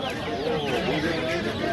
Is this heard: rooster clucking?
yes